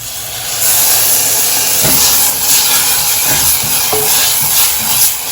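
Gram flour batter poured into hot masala for a mochai curry sets off a loud, sudden hissing sizzle that holds steady for several seconds, with faint crackles and spoon taps in it.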